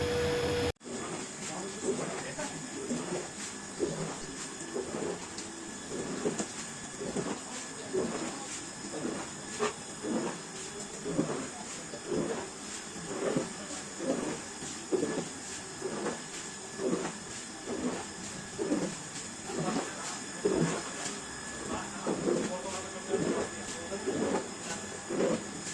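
Boiler room heating system in a clinic running, with a steady broadband hiss and a repeating pulsing mechanical rhythm throughout, close and continuous.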